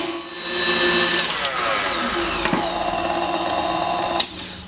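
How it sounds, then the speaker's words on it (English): An electric mixer beats royal icing at its highest speed, a steady loud whirring drone with a high whine, plus brief clicks as the beaters hit the bowl. "make sure the mixer is on the lowest speed, and after that increase that to the highest speed and keep on mixing about 3 minutes"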